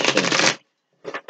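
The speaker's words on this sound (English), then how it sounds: "So, let's give this a couple shuffles." Tarot cards shuffled by hand, a dense riffling burst for about half a second, a pause, then two shorter bursts; close and fairly loud, with no talk.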